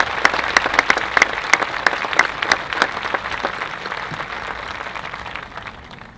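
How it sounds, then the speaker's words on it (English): An audience at a school district convocation claps for school custodians, a dense, sustained round of applause with sharp individual claps standing out early, slowly thinning toward the end. "could we give a quick round of applause to our hardworking custodians who made our schools look so"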